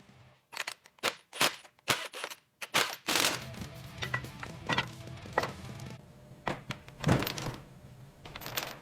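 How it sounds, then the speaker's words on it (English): Heavy metal clunks and sharp knocks as a gearbox is handled and mounted on a workbench, a run of distinct impacts followed by scraping and clattering work noises up close. "Let's get that gearbox mounted."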